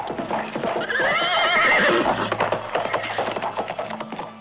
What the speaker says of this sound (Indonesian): Dari jauh terdengar suara hentakan kaki kuda yang berpacu cepat, dan derap kaki kuda tersebut lantas terhenti.